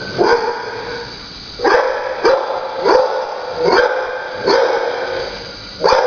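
Sadie, a big 4-year-old, 62-pound female shelter dog, barks in five loud, close, spaced bursts, each a sharp bark with a short trailing yelp, separated by brief pauses.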